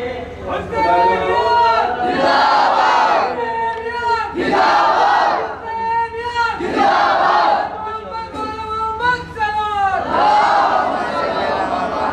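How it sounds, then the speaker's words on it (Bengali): A large crowd at a Hasan day gathering in Sompur, West Bengal, India, shouts a religious slogan in chorus, loud rhythmic waves of massed voices answering a leader's call, repeated several times. "হুসেন জিতেছে লাগাও নারায়ে"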